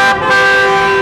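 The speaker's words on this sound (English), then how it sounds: "We're hearing, cars honking their horns, cheering support" A car horn at a junior doctors' strike picket line gives one loud, sustained blare close by, with no one talking.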